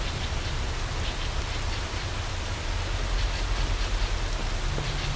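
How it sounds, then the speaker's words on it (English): Steady rain falling in a spring setting, a dense continuous hiss of drops with a low rumble underneath, loud and even throughout with no voices. "One spring afternoon, Sam was left in the rain."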